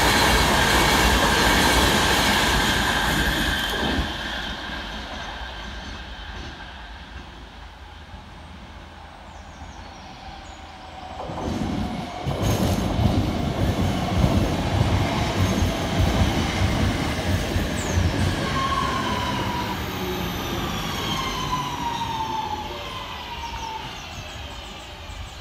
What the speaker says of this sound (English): here comes 323234, working the 1103 Northern service at Stoke-on-Trent through to Manchester Piccadilly